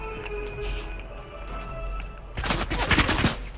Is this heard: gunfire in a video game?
yes